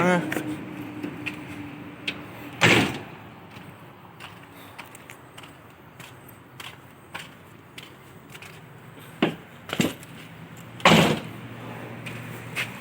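The door of an Isuzu truck in a workshop thuds shut with a sharp slam, followed by a few more clunks and latch knocks amid low background noise and some faint voices.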